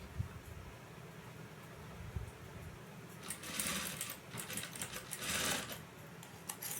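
A sewing machine stitches a lace V-neck blouse neckline, starting faint and then running in louder, rapid bursts of mechanical clatter close by.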